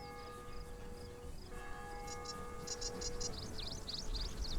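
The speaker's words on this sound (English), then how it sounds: "if you ever hear a bell from a chapel or church giving that sound effect, it's because it's the top of the hour" A chapel church bell rings the hour in a WW2 video game, heard as a steady low tone under distant birdlike chirps that build toward the end.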